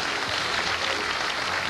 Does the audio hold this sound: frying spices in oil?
no